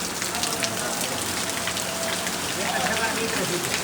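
Steady, dense rain patters on surfaces around a cattle shed, a continuous close wash of drops with voices talking faintly underneath.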